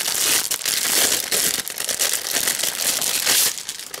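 A plastic bag holding card-making kit pieces is folded shut, giving a continuous close crinkling and rustling of plastic throughout, with no talking.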